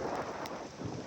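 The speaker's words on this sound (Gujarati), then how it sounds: "વરસાદ પડવાનું ચાલુ થઈ ગયો." Steady rain hisses softly in the background, with a low rumble that could be distant thunder and no talking.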